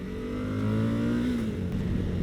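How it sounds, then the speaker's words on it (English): A 2020 Suzuki V-Strom 1050 motorcycle engine pulling under acceleration, a steady, fairly loud droning hum with a slight rise in pitch, heard without talk. "The motor's pretty decent. It's got a fair amount of power, as you'd expect from a 1050"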